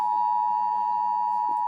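Amber Alert emergency tone from a phone, a steady piercing electronic note sustained without a break, loud and close, with faint murmuring underneath.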